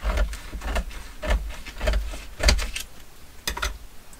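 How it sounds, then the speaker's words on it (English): A sewing machine runs in short, rhythmic mechanical bursts, stitching in quick pulses with brief pauses, close up and fairly loud. "I'm going to stitch around the edge of this on my sewing machine."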